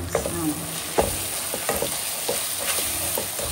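Brinjal pieces stirred in a hot pan with red chilli and coriander powder, a steady oily sizzle broken by repeated spoon scrapes at an irregular rhythm, close and alone.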